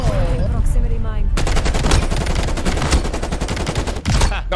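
Rapid video-game gunfire rattles loudly in dense automatic bursts for several seconds after a short opening stretch of other game sounds, with brief pauses near the end.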